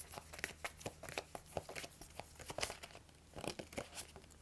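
Tarot cards being shuffled and drawn from a deck, a quick close run of papery flicks, slides and crinkles, soft and irregular with no talking.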